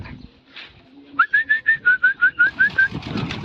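Pigeons let out of a cage, their wings clipped, give a rhythmic series of about a dozen short, evenly spaced whistling coos at close range, followed by a soft rustling hiss.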